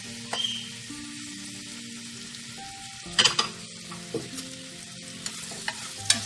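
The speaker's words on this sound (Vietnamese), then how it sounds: "Rồi nó đã sôi như thế này rồi, bắt đầu mình sẽ cho cái khoai lang hồi nãy mình chiên nó, mình bỏ vào mình trộn ha." Butter and honey boiling in a pan as fried sweet potato pieces are stirred in, a steady soft sizzle with scraping stir strokes and a few louder clatters, close and without talk.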